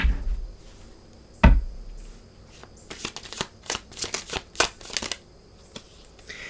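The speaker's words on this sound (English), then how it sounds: "let's go ahead and let's pull 3 cards for where this is leading here" Tarot cards are riffled and shuffled in a rapid run of crisp flicks and slaps, followed by a few cards being pulled, close and clear with little else around.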